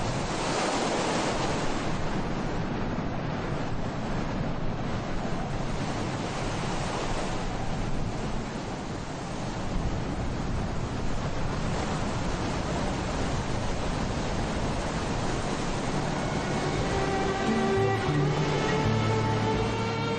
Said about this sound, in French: à marée haute, le vent se met à souffler fort.